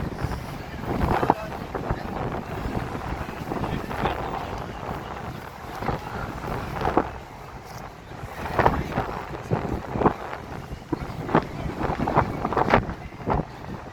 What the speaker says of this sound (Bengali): আর অনেক বাতাস প্রচুর পরিমাণ বাতাস কিন্তু এখন হইতেছে